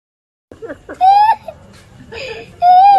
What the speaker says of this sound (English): It's kid crying and laughing.